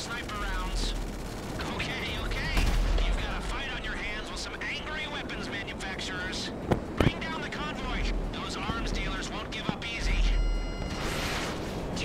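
Gunfire in the video game GTA crackles in bursts under near-constant talking. Sharp shots and rattling volleys mix with game noise, and a few louder cracks stand out partway through.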